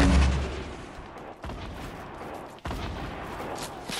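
Gunfire in Fortnite Battle Royale, with bursts of shots and brief booms. A loud blast opens the passage, then sharper cracks follow near 1.4 and 2.6 seconds over a noisy background.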